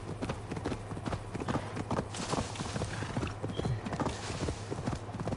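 Horse hooves clip-clop in Assassin's Creed, a steady, fairly brisk trotting rhythm that runs throughout at moderate volume with no talking.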